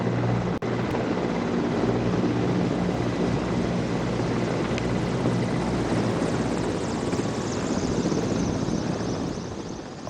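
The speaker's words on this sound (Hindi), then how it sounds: "MI-17 हेलीकॉप्टर से सबसे पहले तिरंगा झंडा, उसके बाद तीनों सेनाओं के अपने अपने ध्वज।" Mi-17 helicopters fly over the Republic Day parade on Kartavya Path, a loud continuous rotor thump and engine drone that holds steady throughout and fades slightly at the end.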